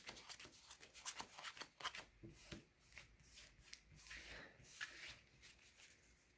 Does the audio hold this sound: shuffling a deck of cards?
yes